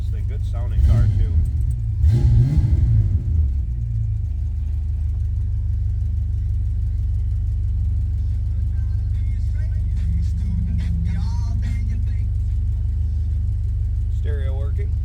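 A 1967 Ford Mustang Coupe engine rumbles loudly at first with a few revs in the opening seconds, then settles into a steady, close idle while a voice speaks intermittently.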